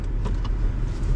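A car being driven, its low engine rumble and road noise steady and close throughout, with a couple of faint brief clicks near the start.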